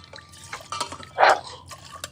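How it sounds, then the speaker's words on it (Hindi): Water splashes into a dirty copper or brass vessel in a single short burst near the middle, with faint drips and clinks around it and no talk. "अंदर से बहुत ज्यादा गंदी है तो इसे हम भर के रख देंगे पानी को थोड़ी देर के लिए"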